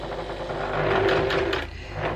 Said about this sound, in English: I'm going to stitch down that short end there